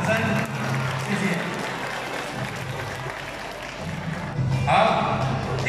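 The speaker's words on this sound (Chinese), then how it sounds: "掌声，谢谢" An audience at a storytelling contest applauds a runner-up, moderate clapping that fades slightly mid-way, then swells again near the end, with an announcer's voice over it.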